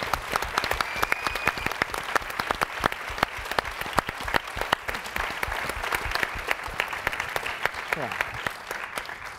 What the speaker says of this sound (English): please stand and give a round of applause to all the youth that came out today